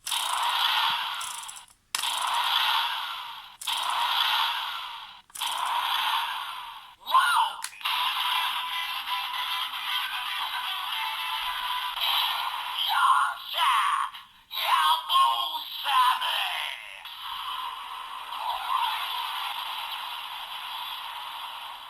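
A DX Ninjark Sword toy gives several quick mechanical ratcheting revs in separate bursts, followed by a longer stretch of its electronic sound effects, with a person talking quietly at times.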